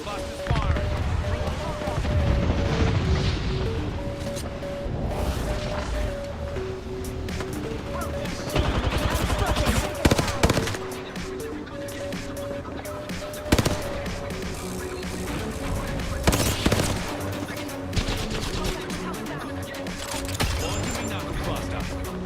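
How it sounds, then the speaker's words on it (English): Rapid weapon fire from a knuckle cluster in a shooter video game, loud dense bursts and impacts layered over steady game music, with players talking throughout. "Knuckle cluster's firing."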